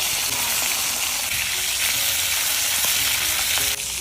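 Small hilsa fish fry in hot oil with a loud, continuous close sizzle and occasional pops and clinks throughout.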